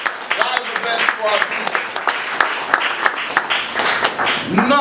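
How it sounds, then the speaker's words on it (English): Audience applause at an award presentation, a crowd clapping in a full, steady patter while a voice speaks over it. "We can thank him with our applause right now"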